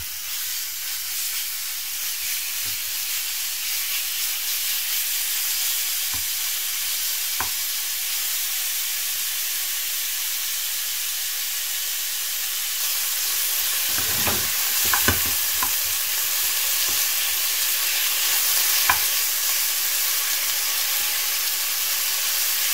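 A marinated escalope fries in a pan with a continuous bright sizzle. Occasional soft clicks and scraping taps from utensils rise above it, and a brief rougher flare of crackling comes near the middle. Nobody speaks.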